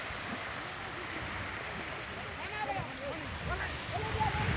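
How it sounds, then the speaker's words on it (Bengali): Sea waves roll onto the shore on a river-island beach in winter. The surf makes a steady, breathy wash with wind noise, moderately faint, while people can be heard talking. "দেখতে পাচ্ছেন সমুদ্রের যে গর্জন,"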